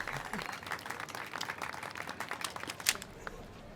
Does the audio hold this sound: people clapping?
yes